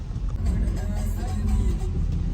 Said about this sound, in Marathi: तर चला पाऊस पडतोय, मी गाडी चालवतोय